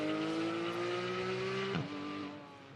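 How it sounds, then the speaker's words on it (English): A 991-generation Porsche GT3 race car accelerates hard at a sprint event, its engine note climbing steadily before a quick gear change drops the pitch, then pulling on and fading, loud and alone with no talk. "Rob Oschlack in the 991 generation Porsche GT3."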